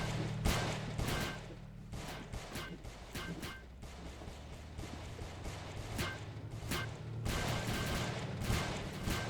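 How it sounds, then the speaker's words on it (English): Gunfire pelts a player's armor in a Roblox open-world building and PvP game, a steady barrage of rapid cracks and impacts over a rumbling engine drone, with sharp bursts clustering near the start and again toward the end. "they're shooting my armor off"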